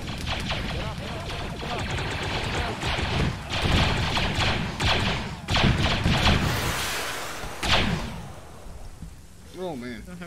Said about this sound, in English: This is what happens when stuff gets bombed.